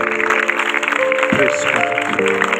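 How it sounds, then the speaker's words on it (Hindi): Audience applause at a Christian prayer festival in Kharian after a Bible reading, a steady broadband patter of many hands beneath sustained keyboard chords that shift partway through. "आए बाइबल मुकद्दस के लिए जोरदार तालियां बजाएं"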